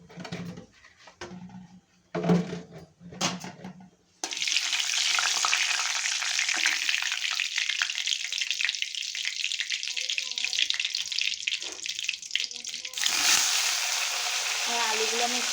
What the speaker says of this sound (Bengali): আলুটা দিয়ে আমি ভালো করে ভেজে নেব।